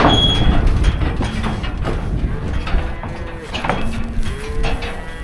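A farm herd of cattle, with bulls loose, mooing near a trailer: several loud, drawn-out moos from different animals, some overlapping, over rumbling background noise.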